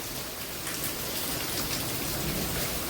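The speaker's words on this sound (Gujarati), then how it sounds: "વરસાદ પાણી પાણી કરી દીધું હજી કન્ટિન્યુ ચાલુ જ છે" Steady, dense rain falls continuously on a village farm, a close hiss of drops hitting surfaces with no pauses or voices.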